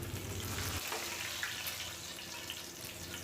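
Fish pieces frying in hot oil until golden brown give a dense, steady sizzle and crackle close by, continuous through the clip with no one speaking.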